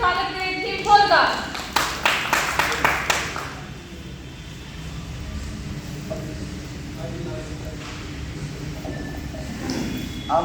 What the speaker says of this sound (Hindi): तो एक बार जोरदार तालियों से स्वागत करें टीम 4 का